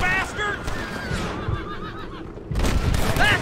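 A horse whinnies loudly and close in the Western video game Red Dead Redemption, with repeated neighs over galloping hooves, gunfire and shouting voices, the whinnies rising again near the end.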